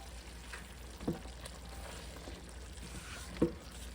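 Seasoned onions and celery sizzling in a pot for oxtail soup, a soft steady frying hiss with two brief clinks of a utensil against the pot.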